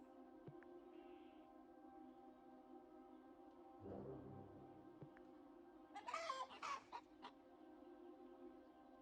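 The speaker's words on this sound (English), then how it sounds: "We have chicken." Chickens on a farm in the video game Orwell's Animal Farm, a few soft clucks and a brief burst of fowl calls over a quiet hum, faint and sparse with no talking.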